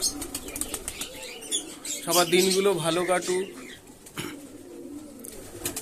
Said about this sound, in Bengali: এই পায়রাগুলোকে জাস্ট ছাড়লাম আজকে